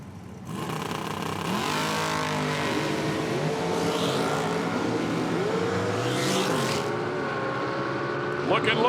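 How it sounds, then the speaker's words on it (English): Chevy Malibu and a dragster launching side by side at an IHRA Outlaw Nitro drag race in Milan, engines roaring loud and sustained with rising revs as both cars pull away down the strip. "Chevy Malibu will leave a good bit earlier than 2007 dragster."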